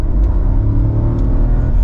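A Hyundai Creta turbo with a 1.0 engine accelerates, its low engine rumble and whir rising steadily from inside the cabin, heard alone without talk.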